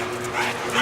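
A dog barks and whimpers up close in a short, continuous burst of yips and whines, outdoors at a dirt-track hobby gathering.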